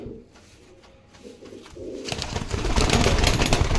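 Pigeons coo softly in a loft, low throaty calls that swell into louder, denser noise of birds and movement toward the end.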